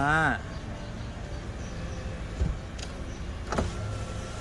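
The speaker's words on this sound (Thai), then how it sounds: "ทดสอบเลยฮะ กระจกไฟฟ้า" Power windows on a 2004 Honda CR-V 2.0 E i-VTEC 4WD run through a test, a brief high motor whine at the start followed by steady low motor hum with a couple of faint clicks, close and moderately loud.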